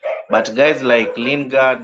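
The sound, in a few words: dog barking during call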